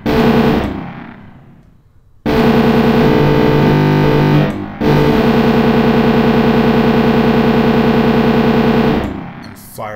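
A rapid-firing weapon in Arma 3, running a United States Air Force mod, fires loud, distorted sustained bursts, with a brief gap near the start and another short break midway.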